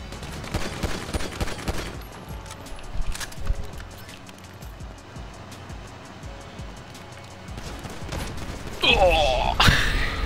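Rapid machine gun fire in GTA 5 crackles in dense bursts at the start, then the scene turns quieter, with scattered clatter and a louder, busier burst near the end.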